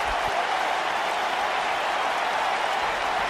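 A wrestling arena crowd in Green Bay cheers and applauds before a pay-per-view event, forming a steady, loud, unbroken roar of clapping and shouting with no gaps.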